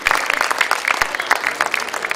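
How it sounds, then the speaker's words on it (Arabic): Dense, continuous applause from an audience at a local nasheed festival in Guelma, steady rapid clapping filling the whole stretch without voices standing out. "صفقوا على ماونة وكتفها الأيمن"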